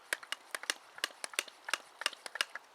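A pressurised water purification bottle pumped by hand outdoors, about two dozen quick, light, close clicking strokes in an uneven rapid rhythm, faint and without talking.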